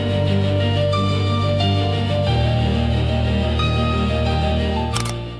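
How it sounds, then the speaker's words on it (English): A Suno AI-generated pure instrumental piano progression that slowly rises and builds, steady layered chords with a bass change midway, loud and unbroken throughout, no talking. "a piano progression that slowly rises and builds,"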